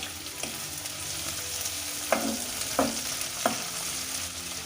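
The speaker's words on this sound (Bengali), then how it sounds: "এবার কাঁচা ঝালগুলো দিয়ে দিলাম আবার একটু ভালো করে নাড়বে" Onions and green chillies sizzle steadily in a hot pan while a spatula stirs them, with three or four distinct scraping strokes standing out over the continuous frying hiss, close and fairly quiet, with no talking.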